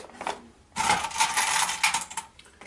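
A clip snapped onto a folded paper origami bowl, giving a short rustle of paper followed by a brighter crinkling, clicking burst at close range, with no talking.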